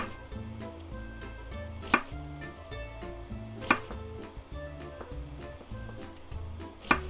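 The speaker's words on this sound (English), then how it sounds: "You just want to cut your onion into just nice bite-sized pieces" A knife chops onion into bite-sized pieces on a cutting board, three sharp knocks spaced roughly two seconds apart over steady mid-level kitchen background noise.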